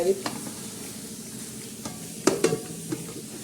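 Cooked green onion vegetable dish with green chillies and peanuts is stirred in a pot, soft sizzling under a few scraping strokes and two sharper clinks of a spoon against the pot.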